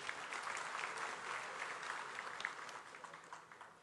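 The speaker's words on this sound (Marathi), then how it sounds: "जरा टाळ्या वाजवा जरा हाजी अराफतसाठी" Steady applause from the audience at a political gathering, a dense and even wash of many hands clapping that is heard at a distance and fairly faint, continuing throughout without pause and with no talking.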